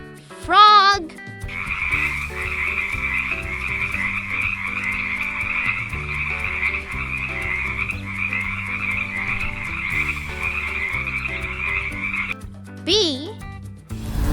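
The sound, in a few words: frog croaking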